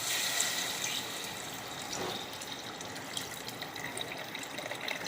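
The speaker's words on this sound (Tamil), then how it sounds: "கொஞ்சம் தண்ணி ஊற்றிட்டு" Water poured into a cooking pot in a home kitchen while preparing tomato rice, a steady continuous splashing stream lasting throughout, close and fairly loud with no talk over it.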